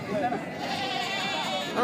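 Sheep and goats bleat at the weekly Tuesday livestock market in Kadiri, with a couple of wavering cries near the start and end rising over constant crowd chatter and bargaining voices.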